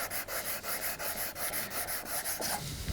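A small sanding stick rubs back and forth on a small wooden box, giving quiet, rhythmic scratchy strokes at an even pace, close and faint with no talking.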